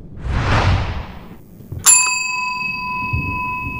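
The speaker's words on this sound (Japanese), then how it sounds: "これ、呼び鈴を2回くらい連続で鳴らしたいと思わんかい？" A single doorbell chime rings out clearly in the horror video game Suite776, struck once and left to sustain with a long ringing tone, after a soft rushing swoosh and under quiet background noise.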